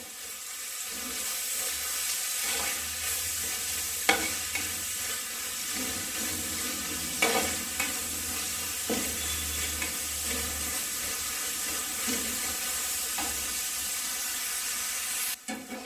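Fish molee ingredients being stirred together in a pan in a Kerala-style kitchen, giving a steady soft sizzle with occasional spoon scrapes and clicks throughout, close and moderately quiet, with no talking.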